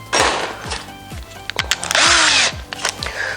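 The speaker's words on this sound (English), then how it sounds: "I'm going to pre-drill in here on the middle of this board" A power drill pre-drills into the middle of a wooden board, close and loud, running in several short bursts and one longer whine, with clicks and handling noise between them.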